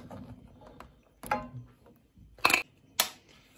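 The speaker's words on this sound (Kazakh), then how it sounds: "Мынандай жарылып, қазір ашқан кезде тез оңай ашылады." An unshelled walnut being cracked open by hand, a few sharp close cracks and crunches spaced apart over a quiet background.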